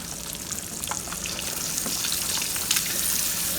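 Eggs fry undisturbed in a pan of fat, giving a close, continuous crackling sizzle with small pops scattered through it.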